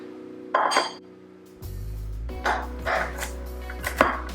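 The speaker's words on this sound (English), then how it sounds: "our pecans that now we're going to chop" A knife roughly chopping pecans on a board: several sharp, clicky chops in irregular bursts, close and clear, over a faint low hum with no talk.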